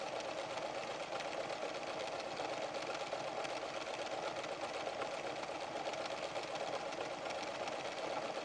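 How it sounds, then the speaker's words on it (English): A PFAFF creative 7550 sewing machine from 1994 runs continuously, sewing cross-stitch patterns with a steady, even mechanical whir and rapid needle chatter, close and constant throughout with no talking. "Look at the way the crosses are sewn."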